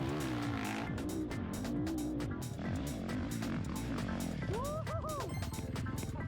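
A four-stroke motorbike engine revs up a steep hill, its pitch rising and falling in repeated throttle surges over a steady loud drone, with a sharp whine near the end.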